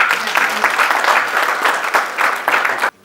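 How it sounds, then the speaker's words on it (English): Audience applause fills a graduation dinner for a journalist mentoring programme, a steady wash of many hands clapping close by for about three seconds before cutting off abruptly. "so we'll give him a round of applause."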